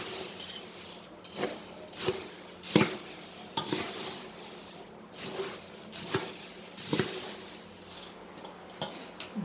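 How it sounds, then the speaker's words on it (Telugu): A hot atukula (poha) snack mixture being stirred in a pan, steady scraping strokes over a soft sizzle, repeating at a close, moderate level without talk. "ఆ వేడి మీదే కొంచెం కలిపేసుకోవాలి ఇట్లాగా"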